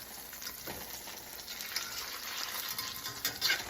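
A smash burger frying in a very greasy pan, a constant bright hiss and sizzle up close with a faint scrape as a spatula slides underneath to flip it.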